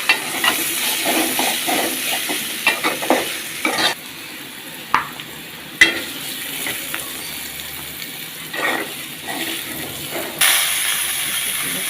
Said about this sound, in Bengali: মিষ্টি কুমড়ো আর আলু আমাদের ভাজা ভাজা হয়ে গেছে